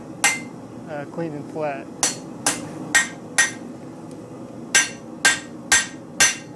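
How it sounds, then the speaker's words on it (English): Sharp hammer blows ring out on metal while a nut cracker is forged, about ten strikes in uneven groups. Close and loud, with a short spoken remark between the hits. "Now I'm keeping the flat side of the hammer just so it stays clean"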